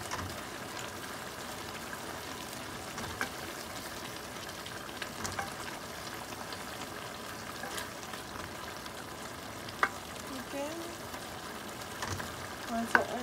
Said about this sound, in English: so I'm adding my onions.